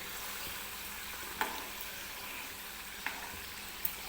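Balushahi frying in oil over a medium gas flame, a steady soft sizzle holding throughout, with a few faint spoon or utensil clicks and no talking.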